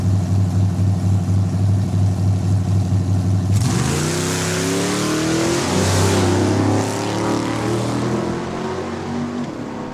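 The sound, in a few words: drag racing cars on quarter-mile run, Vega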